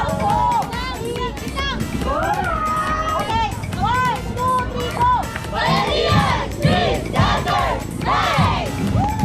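A crowd of young people shouts a chant together, many overlapping voices yelling and cheering in bursts, loud and close throughout with excited talk mixed in.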